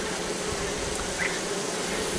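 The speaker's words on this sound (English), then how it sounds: "Italian goldens, just one type of one variety of" Italian golden honey bees used for commercial honey production drone steadily at a homestead beehive, a dense, continuous close-up buzz with no voices.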